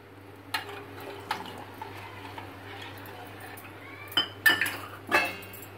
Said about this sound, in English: Mix it with boiled milk.